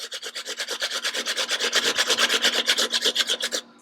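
Potatoes rubbed against a box grater for Oktoberfest potato pancakes, steady rasping strokes in a fast even rhythm, close and loud, stopping abruptly near the end.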